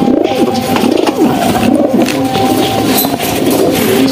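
Pigeons coo repeatedly close by, soft throaty warbling calls overlapping in a steady rhythm against a busy background hum.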